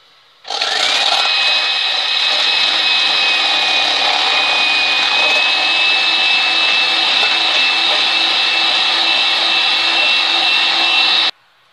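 Electric mixer whipping egg whites in a bowl in a home kitchen, a loud steady motor whine that starts suddenly, holds constant for about eleven seconds and then stops.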